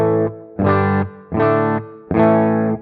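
Clean electric guitar through a Guitar Rig Lead 800 cabinet with the effects pedal switched off, four sustained strummed chords at an even pace, close and loud with light room reverb.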